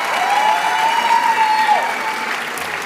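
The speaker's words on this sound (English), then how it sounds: "but please, a round of applause" An audience applauds at an MBA and EMBA graduation ceremony, with sustained, dense clapping from a large crowd that tapers slightly near the end.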